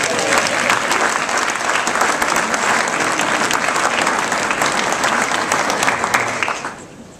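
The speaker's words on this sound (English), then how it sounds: "Can we have a round of applause?" Loud, dense applause from an audience at an aerospace industry forecast event, sustained for about seven seconds before tapering off at the end.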